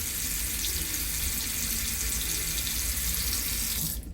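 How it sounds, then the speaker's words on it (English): Bathroom sink tap in a Carnival Mardi Gras cruise ship cabin running steadily with a constant close hiss of flowing water for about four seconds, cut off abruptly at the end. "I always like to turn on the water to make sure there's good pressure and that it's draining properly."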